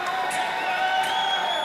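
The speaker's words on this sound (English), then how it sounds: "Crowd's really getting into this here" Spectators at a cage fight night cheer and shout loudly and continuously, whoops rising out of a dense roar of crowd noise.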